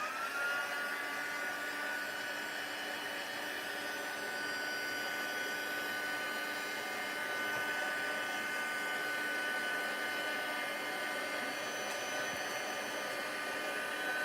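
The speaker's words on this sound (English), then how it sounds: "I'm going to heat this now with my heat gun. It's going to be a bit noisy." A heat gun blows continuously for the whole stretch, a steady, even whooshing roar with a faint motor whine, close and unchanging, with no talk over it.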